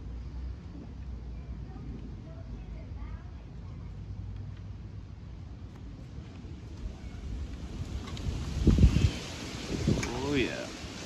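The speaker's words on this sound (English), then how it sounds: "There's that wind. Comes in real strong sometimes." Strong wind blows outdoors in a rough, rumbling rush that buffets the microphone, steady at first and then gusting louder toward the end.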